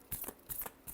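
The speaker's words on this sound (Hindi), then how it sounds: "last shuffle" Tarot cards riffle and flutter in two quick close bursts, a soft papery shuffle heard alone without talk.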